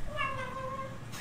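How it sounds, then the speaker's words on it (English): A cat lets out an odd, drawn-out warbling meow, a single tonal wail lasting about a second, close and fairly loud over faint background noise. "I have never heard a cat make this noise before."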